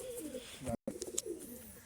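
Pigeons at a home loft cooing in soft, low, repeated throaty calls, fairly near, with a brief gap and a few faint chirps.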